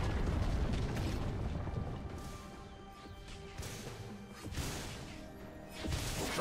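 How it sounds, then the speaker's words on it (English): A turret crumbling in League of Legends, a rumbling crash with grinding, creaking debris that swells at the start and again near the end, mixed into dense game noise. "Red team's turret has been destroyed."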